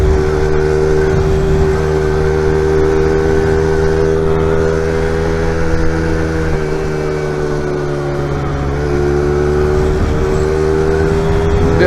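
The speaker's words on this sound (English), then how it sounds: "a Honda XR70 can definitely keep up with" Honda XR70 pit bike riding in traffic, its small engine droning loud and close at a steady pitch with a brief dip and recovery near the end, continuous throughout with no talk.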